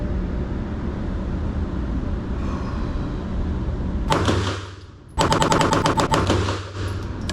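Pistol shots ring out at an indoor shooting range at about 8 yards: a steady rumbling background, then a single loud crack followed by a quick string of sharp, close shots.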